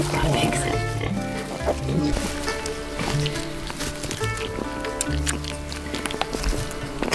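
Newborn heritage piglets oink and squeal during a sow's farrowing, their grunts mixed with rustling and people talking nearby throughout.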